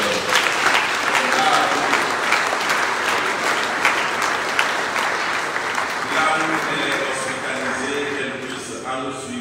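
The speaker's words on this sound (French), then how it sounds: "on va l'applaudir très fort" A church congregation at Sunday Mass applauds loudly, a long dense wave of clapping that gradually thins near the end, with some voices mixed in.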